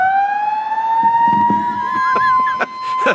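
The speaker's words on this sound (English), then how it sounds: "the siren's gone off and killed our momentum yet again" An outdoor siren wails with a steady rising tone that dominates throughout, loud and continuous, with a few brief background noises near the end.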